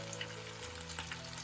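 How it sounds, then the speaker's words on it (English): Pieces of chicken sizzle in hot oil for sweet and sour chicken, a steady crackling fry with small pops, fairly quiet and alone. "So I'll start off by adding individual pieces of chicken to the oil."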